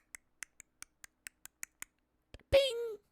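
Sharp, evenly spaced mechanical clacks like typewriter keys, about ten strikes, then a longer ringing tone near the end.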